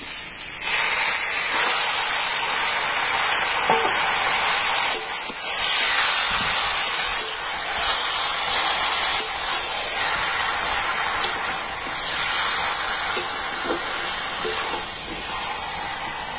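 Marinated chicken hitting a hot pan of fried tomatoes for a home-style chicken and potato curry, giving a steady, loud, broadband sizzle and hiss that runs unbroken with small crackles throughout.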